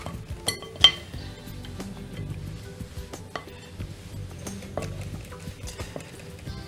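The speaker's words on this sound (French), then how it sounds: "On va terminer au fouet." Whisk working flourless chocolate cake batter in a bowl, light irregular clinks and taps of metal against the bowl with soft stirring between them, near and fairly quiet.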